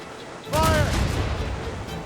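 Ship cannons fire in a naval battle in the video game Assassin's Creed Rogue, a sudden loud boom that rolls into a rumbling volley and keeps echoing behind a brief shouted cry.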